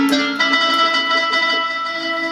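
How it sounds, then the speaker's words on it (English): Yamaha MX49 synthesizer playing a banjo-like patch, a bright plucked tone with a sharp attack held steadily for a couple of seconds, loud and alone. "I've got a sound that sounds similar to a banjo"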